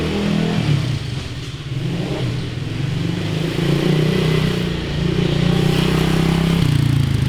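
A pit bike motorcycle engine revs steadily up close, its buzzing mid-pitched drone holding loud throughout with slight dips as it pulls away, no talk over it.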